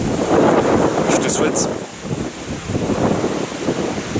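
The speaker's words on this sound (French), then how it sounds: "Sur cette dernière rafale de vent, je vais te laisser." Wind gusts rumble and buffet the microphone outdoors in a steady roar, with a person speaking briefly over the blustery noise.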